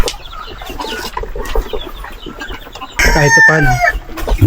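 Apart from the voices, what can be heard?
chickens clucking while eating feed on a mini farm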